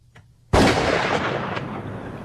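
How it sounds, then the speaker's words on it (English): A single loud gunshot sound effect cracks out after a short quiet lead-in, then rings and decays slowly. "The sound of a self-inflicted gunshot at the end of that one."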